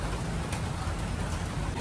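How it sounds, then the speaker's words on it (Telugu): Rain falls steadily outside a house in a brief, even wash of hiss and patter, fairly close and alone without any talking. "వర్షం పడుతుంది కాబట్టి"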